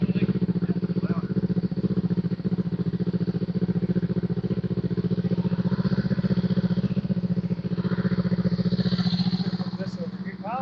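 Close, loud Kawasaki Eliminator with a Coffman's Thunder exhaust holds a cold fast idle, its even throbbing exhaust pulse running unbroken throughout while people talk faintly underneath.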